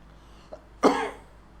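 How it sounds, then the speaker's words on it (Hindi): A single loud cough bursts out after a faint short throat sound, set off by a strong chili smell in the air, then fades into quiet. "बार बार मुझे खांसी आ जा रही है"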